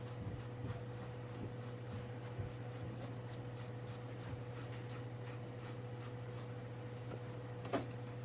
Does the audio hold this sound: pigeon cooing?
no